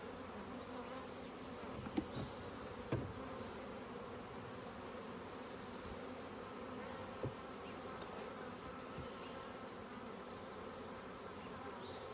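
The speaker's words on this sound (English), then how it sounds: "lots of bees" Bees hum steadily around a hive frame thick with pollen, a faint continuous buzz with a few soft knocks and no talking.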